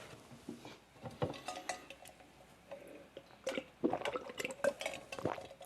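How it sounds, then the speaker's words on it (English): Water is slurped from a metal tumbler in a quiet room, with faint clinks of metal and wet sipping sounds in irregular bursts, growing a little louder near the end. "so you guys can hear me slurp water out of a metal tumbler"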